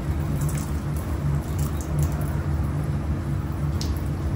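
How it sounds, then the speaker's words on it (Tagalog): A newly repotted habotan flower plant being watered, a steady soft patter and splash of water over a low hum, with no talking. "Okay, so dalidilig muna tayo, no?"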